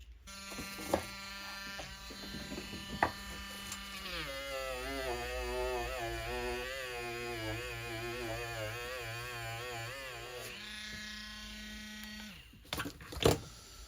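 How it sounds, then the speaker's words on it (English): Mini Dremel rotary tool grinding on a model locomotive's inside connecting rod, a high whining buzz that rises as the tool bites in and wavers steadily for several seconds, with small handling knocks before and after. "I'll try the mini Dremel"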